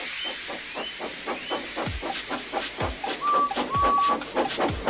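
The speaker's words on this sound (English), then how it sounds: "So they lit his fire, made lots of steam, and Edward puffed away." A steam locomotive puffs in a regular, evenly spaced rhythm of soft chuffs and hissing steam bursts, with a couple of short whistle-like tones partway through, heard fairly faint and clear of any talk.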